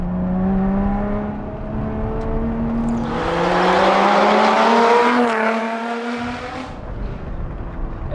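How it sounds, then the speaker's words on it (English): A Lotus Exige Sport 380 engine accelerating hard toward the red line, its loud droning note climbing steadily in pitch through several seconds of a strong pull before easing off, heard close with no talking. "It pulls very, very strongly in the mid-range, and it goes right to the red line"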